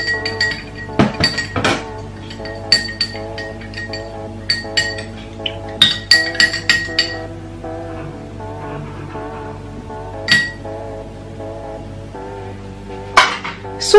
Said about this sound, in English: Then I'll just stir it.